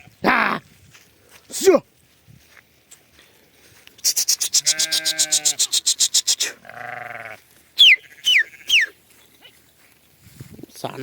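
Sheep bleat close by in a burst of rapid, wavering cries, followed by a few shorter calls, while a person speaks intermittently between them.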